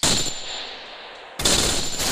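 Gunfire in the Free Fire video game, two loud, sharp bursts of rapid shots separated by a short gap, each ringing out with a harsh, noisy crack.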